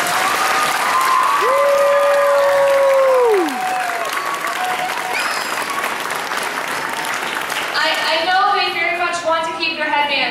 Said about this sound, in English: Another round of applause for Mrs.